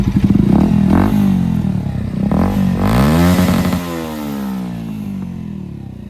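A Bajaj Pulsar NS 200 motorcycle fitted with a modified exhaust and USD fork revs hard up close, its loud throaty roar rising and falling through several throttle blips before settling into a lower, steady idle.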